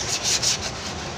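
Coarse sandpaper rubs back and forth across a flood-damaged Toyota Rush brake drum in quick, close, gritty strokes, a harsh steady scraping.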